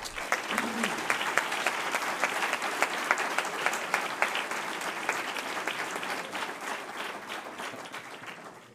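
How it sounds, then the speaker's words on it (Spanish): Audience applause at an entrepreneurship awards ceremony as a prize winner goes up to collect it, dense sustained clapping from a seated crowd, steady for several seconds before easing off toward the end. "Un aplauso, por favor."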